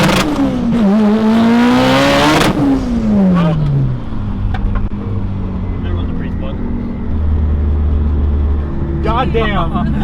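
A 1000 hp Mitsubishi Evo 9 on 48 psi of boost revs hard and accelerates loudly from close by, its rising engine note dropping away into a lower steady idle, with people talking throughout.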